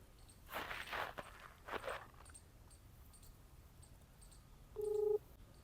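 A phone dialed to call an uncle: a couple of soft, muffled thuds, then a single short keypad beep near the end, all quiet and close with no talking.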